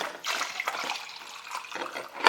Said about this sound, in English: And I'm going to put some water in the tumbler.